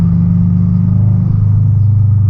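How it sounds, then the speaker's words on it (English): A deep, steady exhaust rumble from a Subaru BRZ fitted with UEL headers drones at low pitch, loud and close, holding an even idle-like burble throughout. "When you're just cruising, you get that deep subaru rumble"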